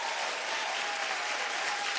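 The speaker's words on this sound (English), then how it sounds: "Keep clapping." A television talk show studio audience claps continuously, a dense, even wash of applause at steady volume with no voices heard.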